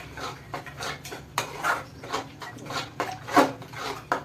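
Paneer masala being stirred and sautéed in a pan: a steady run of scraping, rubbing strokes from the spoon on the metal, with soft clinks, moderately close and unaccompanied by voices.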